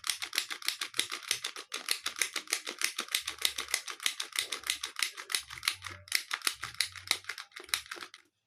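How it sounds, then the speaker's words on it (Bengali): A mini portable handheld sewing machine stitching fabric, a rapid, steady, close rattling run of needle strokes with a brief pause partway, then resuming and stopping at the end. "একদম দারুণ পারফেক্ট সেলাই, একদম ফাস্ট"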